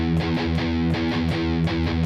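Heavy distorted electric guitar chugs through a riff from a song, with rapid, steady palm-muted chords repeating in a tight rhythm, loud and close throughout.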